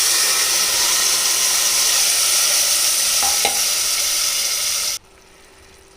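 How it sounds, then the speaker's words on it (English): Tomatoes sautéing in a pan with onion, garlic and ginger paste for North Indian chole give a steady, close, bright frying hiss with a couple of faint stirring clicks, dropping abruptly to near quiet for the final second. "So in about 7-8 minutes the tomatoes will get sauteed well and become nice and soft and start releasing their juices"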